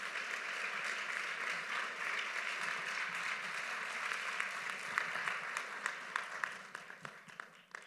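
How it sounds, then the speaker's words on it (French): Audience applause at an award ceremony, a sustained wash of many hands clapping that thins out toward the end into scattered individual claps, moderately distant. "On l'applaudit bien fort."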